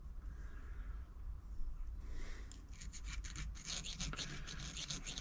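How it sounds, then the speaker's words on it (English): A file rubbing against a sewing machine's oscillating hook to smooth out a needle nick on a New Home 508, soft rasping strokes that grow brighter and more distinct toward the end. "I'm just filing that down."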